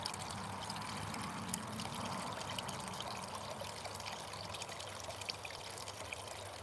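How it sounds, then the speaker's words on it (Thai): Continuous trickling and splashing water from a small garden waterfall, steady and close with no voices. "น้ำตกเล็ก ๆ ที่สวนเล็กๆหย่อมของ ท่านพราพเจ้า"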